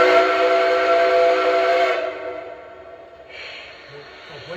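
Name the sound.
Lionel Legacy Southern Atlantic model train whistle, tone 1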